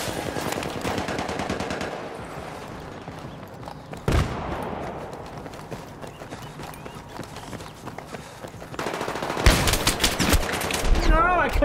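Gunfire in Rainbow Six Siege: rapid bursts of automatic fire with sharp single shots and a loud bang, swelling to dense firing near the end, mixed with footsteps and game noise.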